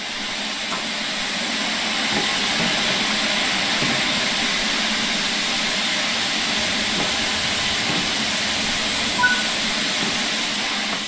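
A steam locomotive sets off in Train Sim World 5 with a loud, steady broadband hiss of steam that swells slightly and holds, no talking.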